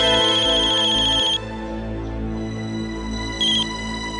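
A mobile phone ringtone plays a steady, melodic electronic tune right up close, repeating its short bright phrase throughout.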